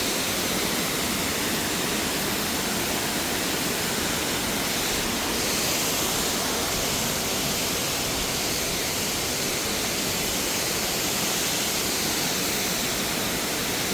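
Water crashes down the Nalagana waterfall in a dense, unbroken roar, steady and enveloping from close range, with no voices.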